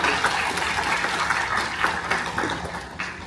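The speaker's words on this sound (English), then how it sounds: "So please give them a round of applause." Audience at a domestic violence conference panel breaks into loud, close applause, a dense, hissing crackle of many clapping hands sustained for over three seconds.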